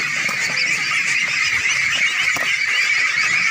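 Geese or ducks at a village pond in Bangladesh, being fed, honk loudly and continuously, many birds calling together nearby with no pause.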